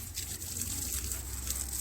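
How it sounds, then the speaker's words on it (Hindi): Water poured onto the soil around a potted rose plant just after fertilizing, a steady close gushing and trickling stream that runs without a break, with no one talking. "खाद डालने के बाद प्लांट में पानी ज़रूर दें।"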